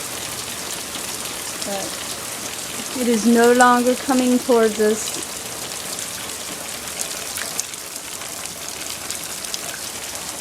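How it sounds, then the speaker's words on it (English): Steady rain from a storm pours down continuously throughout, a dense hiss close by, with a person talking briefly partway through. "we didn't get much from this flipping storm, just lots of rain."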